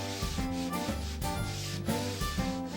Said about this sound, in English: I move it back and forth in the direction of the wood grain